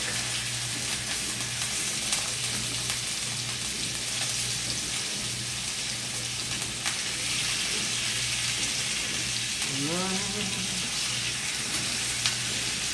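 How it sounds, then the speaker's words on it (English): Pork country ribs sear in a hot pan before going into the oven. A steady, moderate sizzle runs throughout, with brief soft clatters and a short voice-like sound near the end. "So I'm going to sear each side of this, and then we are going to put it into the oven."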